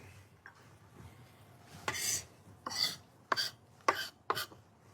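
Chef Thomas Keller's knife mincing shallot on a cutting board for a vinaigrette: a few soft, scattered taps give way to a run of crisp, close chops in quick succession.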